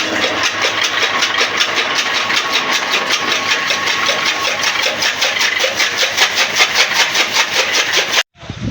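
A fodder cutter's engine running steadily close by after starting, a fast regular chugging pulse throughout that cuts off abruptly near the end.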